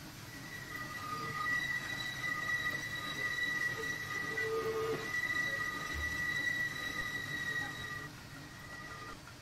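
A Big Boy steam locomotive rolls along in the Train Sim Classic video game, producing a steady rumbling run with sustained high wheel squeal throughout and a brief low thump near the end, with no talking.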